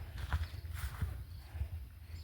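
A water buffalo walks on open ground in a grazing orchard, its hooves landing in a slow, uneven series of soft, fairly quiet thuds with no talk over them.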